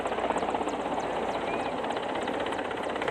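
Helicopter arriving at an outdoor political rally in Bihar, a steady rotor and engine drone with faint rhythmic blade chop, moderately loud and continuous throughout, with no clear speech.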